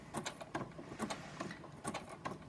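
A sewing machine stitches through paper, a quiet close whirring with rapid needle ticks in short rhythmic bursts, a few stitches at a time.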